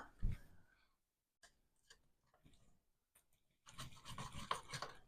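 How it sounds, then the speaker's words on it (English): Knife slicing a piece off cooked steak on a board: faint, close scraping and sawing strokes in short bursts, getting louder toward the end, with quiet gaps and light clicks between. "I'm just going to cut that off."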